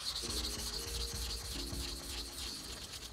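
Straight razor, a Permedge United Drug & Co. blade, honed on a wet Atoma diamond plate with a thick slurry: steady gritty rubbing strokes, close and continuous, with a scratchy metallic rasp throughout and no talking.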